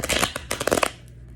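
Tarot cards being shuffled: several quick, loud riffling bursts of card flutter close by, then trailing off into quiet within a second and a half.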